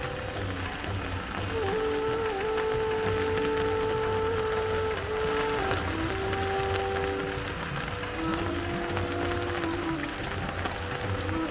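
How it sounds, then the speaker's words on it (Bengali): Steady light rain patters on a fishing boat on the Jamuna River bank, a continuous soft drumming with a faint tonal hum running underneath. "বৃষ্টি পড়ছে যমুনা নদীর তীরে মাছ ধরা নৌকায় আর বৃষ্টির শব্দ টিপটিপ বৃষ্টির শব্দগুলো শুনতে ভালোই লাগতেছে"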